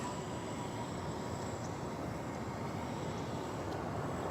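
A Boeing 787-8 Dreamliner arriving at DFW Airport gives a steady, broad roar that holds at an even level throughout, with no voices over it.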